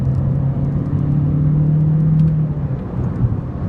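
Skoda Octavia A5 pulling hard from a standstill in a 0-100 km/h run, a steady low engine drone with rising whine heard from inside the cabin, loud and continuous.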